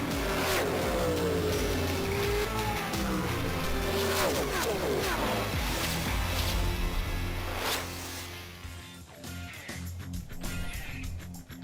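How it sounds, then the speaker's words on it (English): Ford Mustang V8 race cars roar past at Road America, a loud pack of engines revving and sweeping by in overlapping passes before fading into the distance. "We'll kick off with some V8s. That's got to be the Mustang Challenge."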